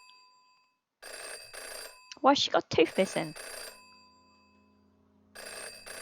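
Telephone ringing in the detective video game Jenny LeClue, a repeated electronic bell in bursts before and after a short stretch of character dialogue, clear and close.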